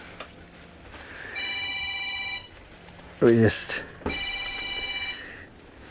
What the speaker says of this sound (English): damn phone's ringing